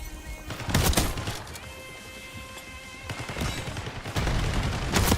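Shotgun blasts in a first-person shooter video game: a few loud, sharp bursts spaced a second or two apart over continuous game background noise.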